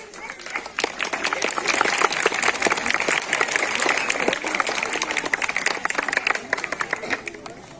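Audience at a children's cluster festival in Ichhapur claps steadily for several seconds, a dense, fairly loud patter of many hands with a few sharper claps standing out.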